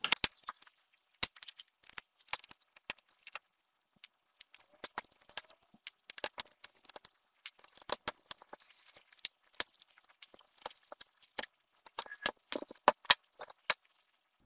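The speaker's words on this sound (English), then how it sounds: "I'm going to take off the metal cover anyway" Small metallic clicks, scrapes and rattles come in quick, scattered bursts as a metal cover is pried and lifted off a Nintendo Wii disc drive during a repair, close up with silent gaps between them.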